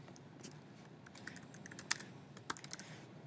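A computer keyboard clicks under quick typing as an event is entered into Google Calendar, with light irregular keystrokes and a few sharper, louder taps standing out near the middle over quiet room tone.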